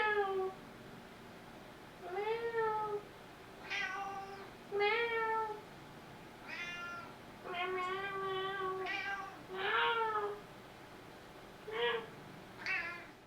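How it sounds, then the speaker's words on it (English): A cat meows repeatedly indoors, around eight drawn-out, close and clear meows with rising and falling pitch, spaced by short pauses, alternating with brief low human sounds as if trading calls. "Not me having a full-on conversation with a cat."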